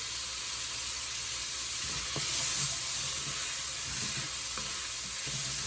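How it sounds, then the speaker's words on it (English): Onions frying in a very hot pot with a little salt, beef stock not yet added, for a Tex-Mex chili; a loud continuous sizzle and hiss with occasional soft stirring knocks, close up. "I kind of like my onions to brown a little bit too"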